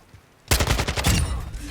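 Gunfire from a weapon in the video game Warzone 2 bursts out after a brief quiet moment, a rapid, loud automatic volley of closely spaced shots that continues to the end.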